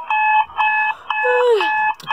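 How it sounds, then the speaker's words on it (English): A morning alarm clock sounds in repeated loud electronic beeping bursts, ringing on steadily with a short groaning voice between pulses. "Turn off, stupid alarm."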